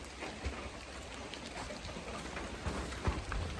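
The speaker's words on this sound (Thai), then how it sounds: "ถ้าฝนตกแบบนี้บางคนก็สิพักผ่อนเลยพี่น้อง" Steady rain falls continuously, a dense even hiss with scattered heavier drop hits, moderately loud and with no voices over it.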